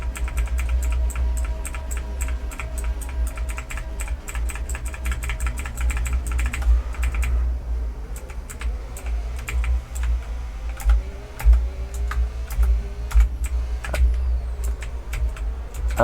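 Rapid computer keyboard key presses tapped steadily while driving a lap of an Abu Dhabi Grand Prix racing game, loud and close over a constant low engine drone, with no talking.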